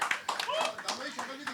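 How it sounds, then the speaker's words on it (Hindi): Audience applause for a guest called to the stage at a Bollywood title song launch event, with clapping under an emcee's excited talking throughout. "धामा जी के लिए बहुत ज़्यादा तालियाँ प्लीज़"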